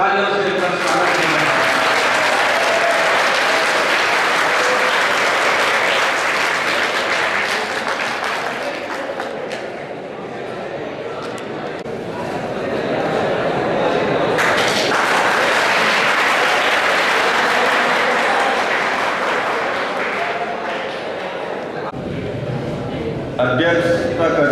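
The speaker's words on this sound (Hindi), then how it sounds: "जरा जोरदार तालियों से स्वागत करें" Loud, sustained applause from a school audience welcoming guests at a Science Day function, briefly dipping midway before swelling again, with an announcer's voice over parts of it.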